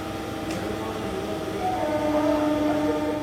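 A MEMU passenger train runs from Kakinada Port toward Rajahmundry, its steady onboard rumble and rail noise heard from inside, swelling slightly louder partway through.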